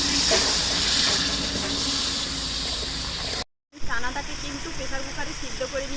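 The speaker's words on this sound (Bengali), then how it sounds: "এবার মশলা বাটার জলটা দিয়ে দিচ্ছি" Spice-paste water poured into a hot pan for a chana paneer curry, giving a loud, steady hiss of steam, then a brief silence and a renewed bubbling sizzle.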